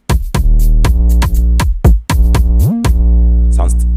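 An unlimited kick drum in an FL Studio hip-hop beat thumps in loud booming low hits with long decay, one with a rising pitch slide, followed by a few light percussive clicks near the end.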